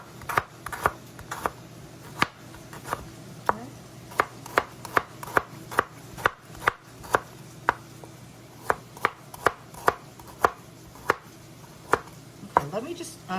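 A knife slices food super thin for a stir fry, striking the cutting board in a quick, steady run of sharp, close taps with no talking.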